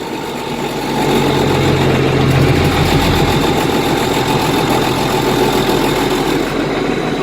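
An International 1586 tractor engine idles while warming up, a loud, steady low rumble with vibration that settles into a constant drone after a brief rise.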